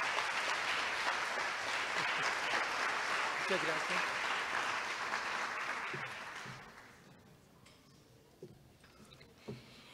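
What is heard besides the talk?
symposium audience applause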